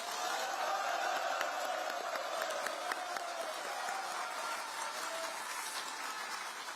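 A large outdoor rally crowd at the National Assembly applauds Speaker Woo Won-shik during a gathering for the May 18 spirit and a constitutional amendment, producing a broad, sustained wash of clapping and crowd noise at moderate distance.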